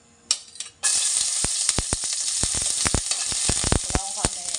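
Garlic and onion sauté in a little hot oil in a pan, a loud, steady sizzle bursting in after a brief quiet start, with scraping stirs and clicks repeating throughout.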